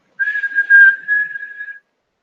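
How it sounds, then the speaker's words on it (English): One person whistles a single sustained, steady note that wavers slightly in loudness, close and alone in quiet surroundings, lasting under two seconds. "Can you whistle?"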